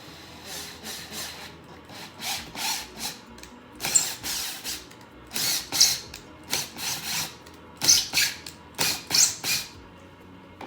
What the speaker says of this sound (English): Then I'm gonna back it out and I'm gonna screw it in a couple times.